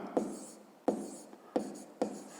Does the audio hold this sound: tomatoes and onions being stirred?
no